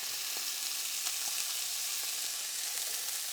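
Bacon frying in a pan gives a continuous, bright sizzle with scattered small pops and crackles, close and steady throughout, with no voices.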